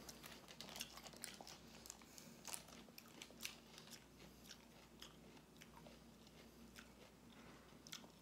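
Crunchy biting and chewing of raw sweet peppers at a mukbang meal, repeated close bites and soft munching against a quiet background, no talking.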